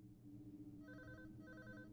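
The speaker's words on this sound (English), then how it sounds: "Now there is a phone ringing back here." In the horror video game Unspoken, a telephone rings somewhere behind, two quiet bursts of trilling rings over a low droning ambience, with no talk.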